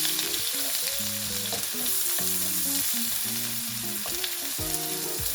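Grated ginger and garlic sizzle and fry in a pan as they are stirred, a steady close hiss broken by repeated scraping strokes of the utensil against the pan.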